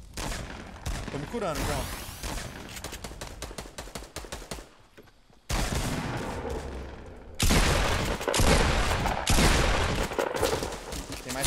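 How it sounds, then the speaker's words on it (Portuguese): Rapid bursts of automatic gunfire and sharp single shots from players in the Fortnite video game, loud and dense throughout, with short gaps and someone talking over the shooting. "Olha esses caras atirando, mano."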